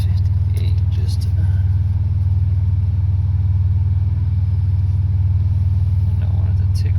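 A Pontiac Grand Prix GTP with a 3 inch downpipe and swapped supercharger pulleys, its engine droning loud and steady with a coarse, pulsing exhaust rumble heard from inside the car while driving.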